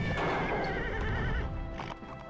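Horse whinnying with hoofbeats in a fantasy adventure film scene, loud and close, a continuous neigh and clip-clop lasting about two seconds amid orchestral score.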